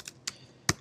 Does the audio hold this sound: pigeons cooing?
no